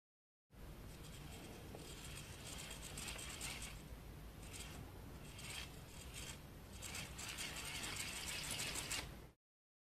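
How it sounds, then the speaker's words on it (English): A small electric motor being hand-spun as a generator to light a regular bulb gives off a steady whirring, grinding mechanical rattle that runs continuously for about nine seconds, close by, with no talking. "And we spin the motor again."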